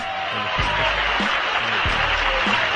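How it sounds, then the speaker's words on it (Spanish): Thin audience applause in a studio show setting, a modest spread of clapping under a low droning background with a few faint voices. "Agradezco estos aplausos tan desnutridos, a la par que merecidos"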